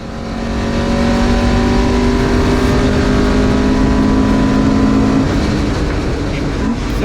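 A Marcos race car's engine roars loud and steady at high revs on the main straight at Donington, a sustained close-up drone with rising harmonic whine from inside the car, easing off near the end.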